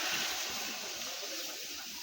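Coconut milk pours into a pot of chicken curry over a strong fire, giving a steady hissing, splashing wash of liquid that holds through the whole moment without a break.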